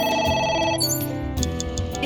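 A telephone rings in the video game AI: The Somnium Files, a steady electronic ringtone that carries on over music without pause, loud and close with no talking.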